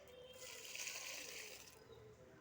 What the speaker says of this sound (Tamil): இப்போ இந்த தண்ணியெல்லாம் ஊற்றும்